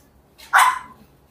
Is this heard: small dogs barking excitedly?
yes